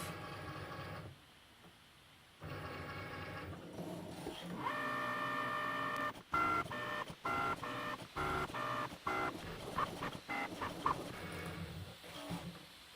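A Cricut Maker scores a pop-up box card with its scoring wheel, a mechanical whir of motors and carriage moves. It starts and stops in short bursts, some with tonal whines, at close range with no talk.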